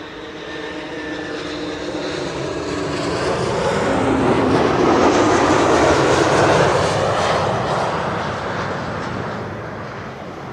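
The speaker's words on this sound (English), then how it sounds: "KLM with an Ember 190 in the SkyTeam livery arriving from Inverness in Scotland." KLM Embraer 190 jet in SkyTeam livery landing at Schiphol on the Kaagbaan runway, its engine roar swelling steadily from a distance to a loud peak overhead, then slowly fading.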